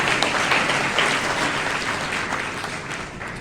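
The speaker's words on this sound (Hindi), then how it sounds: "आप एक बार तालियों से उनका स्वागत कीजिए" An audience claps steadily to welcome a retired police station officer at a caste council gathering inside the Guru Ravidas temple in Karnal; the applause is dense and continuous from start to end, fading only slightly.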